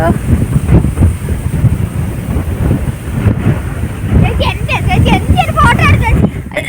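Loud, gusty wind rumbles against the microphone throughout, in the hills of Idukki, Kerala, with a voice speaking faintly underneath.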